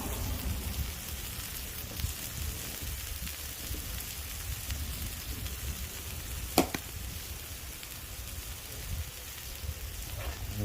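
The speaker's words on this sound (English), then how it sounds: "listen to that sizzle" Chicken fajita meat sizzles quietly and steadily in a hot pan, a soft crackling hiss broken by one sharp clink.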